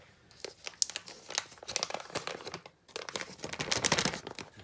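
A plastic piping bag for lemon meringue is opened and handled close up, giving irregular sharp crinkles and rustles in quick bursts, fairly quiet with no talk.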